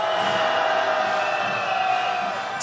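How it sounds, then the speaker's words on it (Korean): A street crowd at a Hongdae candlelight rally calling for a presidential impeachment roars in one sustained, steady shout, with a louder burst right at the end. "다시 한번 함성 시작!"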